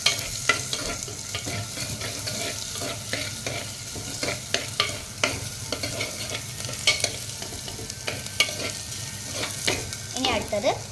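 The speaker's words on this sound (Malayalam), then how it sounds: "സവാള അങ്ങനെ മുഴുവനായി ഇട്ട് കൊടുത്തിട്ടുണ്ട്. നന്നായി മിക്സ് ചെയ്തെടുക്കാം." Whole onions frying in oil for a homemade fish curry are stirred with steady scraping strokes, a continuous close sizzle running under repeated clicks of the spoon against the pan.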